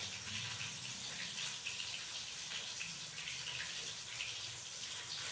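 Liquid pours steadily into a dish of fried fish and flower kinilaw, a close, continuous splashing trickle with no talk.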